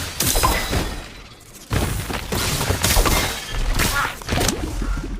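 Stupefy spell effects in a Harry Potter video game: several loud bursts and crackling impacts in quick succession, with a brief dip in between before the sound blasts back in, no talking.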